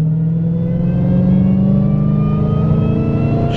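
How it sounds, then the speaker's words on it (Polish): A supercharged Dodge Challenger Hellcat with 707 horsepower cruising under power, its steady engine drone carrying a thin, rising supercharger whine, loud and continuous from the cabin. "Świst kompresora w tym samochodzie to jest coś niesamowitego"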